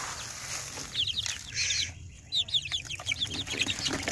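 Seven-week-old Joper chickens cluck and chirp in short bursts at feeding time, fairly close, over a steady low background hum, with no talk.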